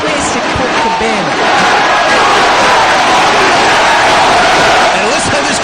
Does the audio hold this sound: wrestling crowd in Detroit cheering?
yes